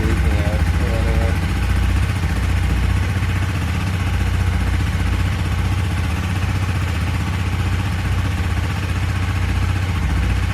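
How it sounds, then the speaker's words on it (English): A Honda CB300F motorcycle engine running after being started, a loud, steady close idle with an even throbbing rhythm throughout, with some brief voice or noise early on. "start the bike"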